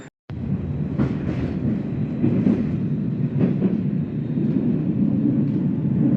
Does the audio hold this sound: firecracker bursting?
no